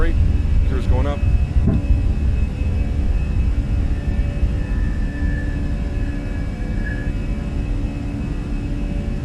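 An airliner takes off and retracts its gear in Microsoft Flight Simulator with the Fenix aircraft, a loud steady engine rumble and roar with a couple of brief clunks early, while someone talks over it.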